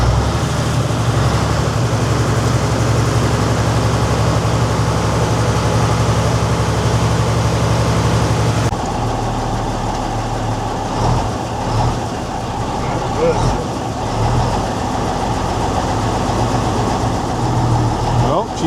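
A Mack R600 truck engine that has sat for 12 years cranks over with a loud, steady mechanical drone that shifts abruptly partway through into a rougher, uneven churning.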